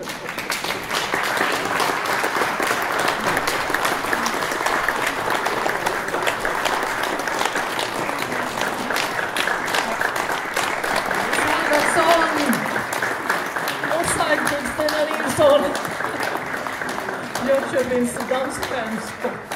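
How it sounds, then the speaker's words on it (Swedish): An audience at a Swedish poetry event applauds steadily after a poem, with dense sustained clapping throughout and voices murmuring in the crowd. "ni vill applådera"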